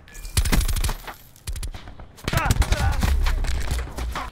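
Rapid bursts of MX9 submachine gun fire in Black Ops 4, loud and close, with two strings of fast shots split by a short pause and game noise filling the gaps.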